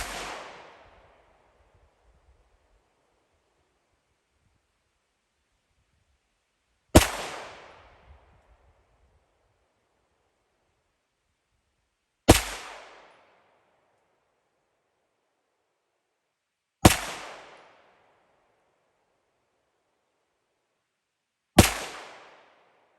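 Four loud CZ Shadow 2 pistol shots ring out singly, several seconds apart, each a sharp crack with a short decaying tail, and a faint earlier report opens the sequence.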